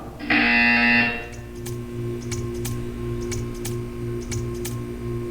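A loud electronic buzzer sounds once for about a second, followed by quiet room tone with a steady low hum and a series of sharp, evenly spaced ticks or clicks.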